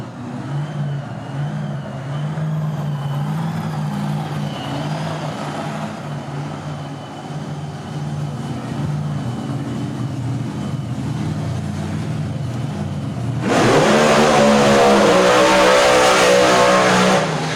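Drag race cars, a turbocharged car against a supercharged one, roar steadily at the strip, then a much louder, harsher engine surge bursts in near the end and holds at full volume.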